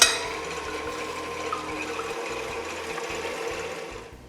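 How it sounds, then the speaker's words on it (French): Stand mixer whisk beating egg whites with caster sugar for a strawberry tiramisu, a steady close whirring motor with a low rhythmic rumble running continuously before cutting off at the end. "J'installe le fouet et je commence à monter les blancs."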